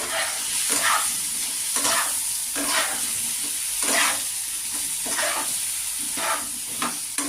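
Paneer curry with ground cumin, coriander and Kashmiri chilli powder is stirred in a frying pan over steady sizzling, with a spoon scraping through it in repeated strokes about once a second, close and fairly loud, with no talking.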